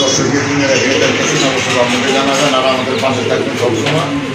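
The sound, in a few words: pigeons cooing at a pigeon market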